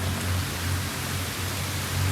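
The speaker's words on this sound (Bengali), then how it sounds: "বৃষ্টি কিন্তু থামতেছে না, বৃষ্টি কিন্তু ভালোই পড়তেছে" Heavy rain falling, a dense, steady hiss with a low hum underneath, close and uninterrupted.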